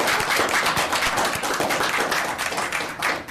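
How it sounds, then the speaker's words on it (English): An audience at a Port of Seattle Commission meeting breaks into steady, dense applause, many hands clapping together at full strength from start to finish, with no talk over it. "Let's give her a round of applause."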